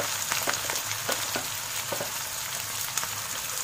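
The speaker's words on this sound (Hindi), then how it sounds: "प्याज को हमें अच्छे से फ्राई करना है, कलर चेंज हो जाने तक हम इसे 5-6 मिनट अच्छे से फ्राई कर लेंगे।" Onions fry in a pan on high flame for aloo keema masala, a close, constant sizzle with regular scraping strokes of a spatula stirring through it.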